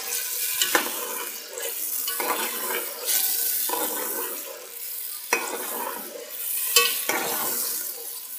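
Ginger garlic paste sizzles in hot oil for beef nihari, a steady loud hiss broken by occasional scraping stirs of a spoon in the pan.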